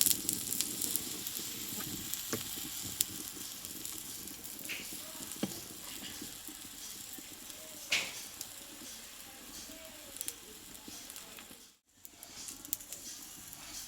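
Wheat-flour dough tiffin sizzles steadily in oil in a pan, a continuous close crackle with soft scraping and occasional louder spits, fading briefly near the end.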